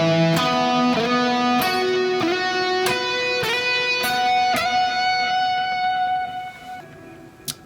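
Electric guitar playing a lick in fifths, each note struck twice with alternating fingers: a steady run of about a dozen bright picked notes, loud and close, ending in a sustained tone that fades.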